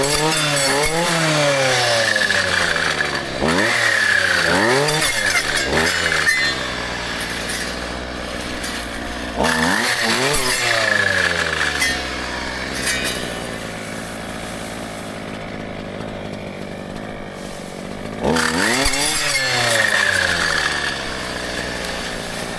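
A brushcutter mows vegetation in a pine forest, its engine revving in repeated rising and falling surges, loud and close, with long steady whining stretches between bursts of acceleration.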